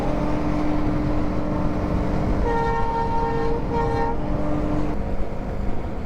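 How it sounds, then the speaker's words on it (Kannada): A train near Narayanagiri Betta in Ramanagara, Karnataka sounds a loud, sustained horn for a couple of seconds over a constant rumble of travel, heard close from a moving vehicle. "ಇವಾಗ ಟ್ರೈನ್ ಜೊತೆ ರೇಸ್ ಆಡ್ತಾ ಇದ್ದೀನಿ ನಾನು."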